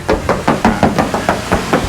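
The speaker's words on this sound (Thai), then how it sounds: "ฟังเสียงเคาะครับ ว่าเขาโป้หนาเลยมาหรือเปล่า" Knuckles rap on the body panel of a Nissan Navara open-cab pickup, about a dozen hollow metallic knocks in a steady, even rhythm, loud and close with no talking.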